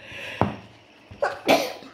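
A person sneezing indoors: a small sharp burst, then a louder double expulsion of breath close to the microphone, with quiet room tone between.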